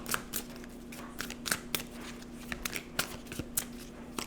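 Tarot cards are shuffled by hand at close range, making a series of crisp, irregular riffling and flicking bursts over a faint steady hum.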